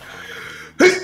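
A single sharp sneeze bursts out near the end, loud and close, after a stretch of quiet game background music.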